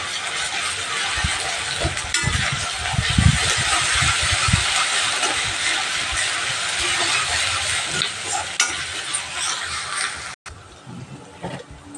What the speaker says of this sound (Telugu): ఇది కూడా పచ్చివాసన పోయే వరకు ఫ్రై చేసుకుందాం.